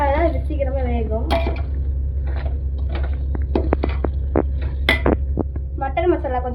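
Vegetables for a vegetable biryani are stirred in a cooking pot, with a utensil clinking and scraping against the metal in irregular knocks while a person talks throughout.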